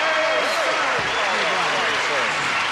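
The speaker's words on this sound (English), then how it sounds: "Perhaps you'll join John and me in greeting our stars with a brisk round of applause." Studio audience of a televised game show applauding to greet the celebrity panel, a dense, steady wash of clapping that fills the whole stretch, with cheering voices mixed in.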